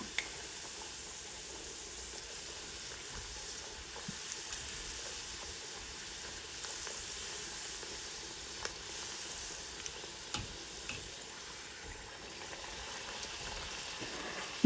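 Masala poori sizzling in hot oil, a faint, steady crackle and bubbling that holds evenly throughout, with a few soft clicks along the way.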